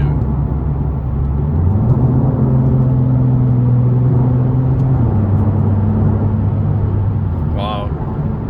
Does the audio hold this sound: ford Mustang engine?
yes